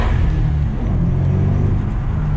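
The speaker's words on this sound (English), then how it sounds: "this thing makes some cool blower noises" Blower whine from a supercharged car, a steady engine rumble with faint whining overtones running continuously and loud at close range.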